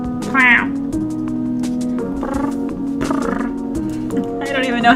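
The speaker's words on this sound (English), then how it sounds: "He won't stop making that gross, low purr meow as he waddles behind me" Low, rough purring meow calls from a cat in the video game Hustle Cat repeat several times over a steady droning background, with a brief spoken phrase mixed in.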